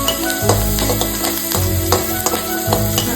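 Food sautés over medium heat in a pan with a steady sizzle, broken by periodic scraping and stirring strokes of a utensil, close and fairly loud.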